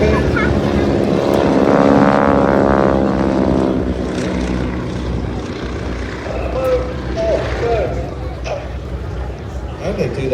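Propeller aircraft engine droning over a beach air display during a wing-walking act, a loud steady buzz that swells and fades as the plane passes, with someone commentating over it.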